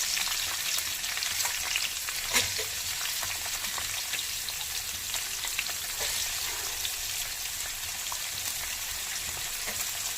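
Onion frying in a pan for a paneer curry, a steady hissing sizzle with scattered crackling pops, close and moderately loud throughout.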